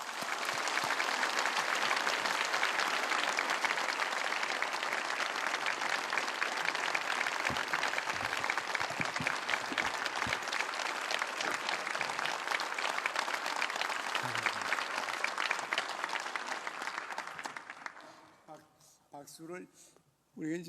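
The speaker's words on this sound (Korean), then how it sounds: "크게 박수로 맞이해 주시기 바랍니다." A church congregation applauds at length to welcome an elderly pastor turning ninety, dense sustained clapping that fades out near the end as a voice begins speaking.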